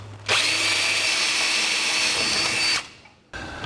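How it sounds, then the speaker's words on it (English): A power drill bores 1/8-inch pilot holes in a 1949 Chevrolet gasser, a close, steady high whine that starts abruptly, runs for about two and a half seconds, cuts off, then briefly starts again. "We'll drill 1/8-inch pilot holes."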